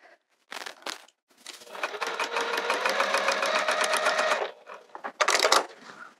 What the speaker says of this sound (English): Those edges get sewn again, so I don't even worry about backstitching.